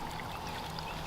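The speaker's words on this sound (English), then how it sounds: "We filled them full of rocks and water and got ourselves a little fountain." Small homemade garden fountain made from plastic totes filled with rocks and water, giving a faint, steady trickle and gentle pour heard alone and up close.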